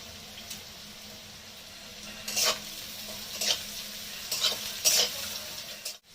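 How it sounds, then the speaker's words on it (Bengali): Crushed garlic fries in oil at a low steady sizzle, broken by several short bursts of louder spattering and stirring, close and fairly quiet, with no talking. "তো আমার রসুন ভাজা বা পেঁয়াজ ভাজা হয়ে গেছে"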